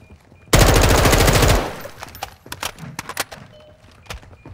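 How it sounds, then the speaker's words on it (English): A sentry gun in MechWarrior Living Legends opens up with a loud, rapid burst of automatic fire lasting about a second, followed by scattered sharp impacts and clanks fading off. "Oh, sentry gun."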